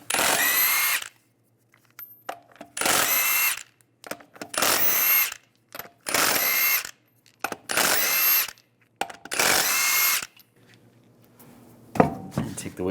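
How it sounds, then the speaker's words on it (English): Power tool with a 22mm socket spinning lug nuts off a 2007-2013 Chevy Silverado 1500 wheel, six loud whirring bursts of about a second each separated by pauses, with small metallic clinks between. "Using a 22mm socket,"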